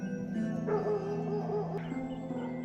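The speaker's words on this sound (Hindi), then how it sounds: "ऊपर कुत्ते भौंक रहे हैं" Dogs at a Gaddi shepherd camp in the Himalayas bark and whimper somewhere uphill, sounding fairly distant. The barks come in a loose irregular run over a steady background hum.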